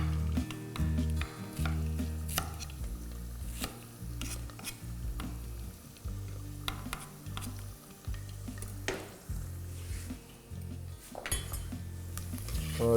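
Diced onions sizzling in a pan with half-cooked potatoes, a steady loud frying hiss under continuous scraping and clinking of a spoon stirring against the metal pan, with a low background hum throughout.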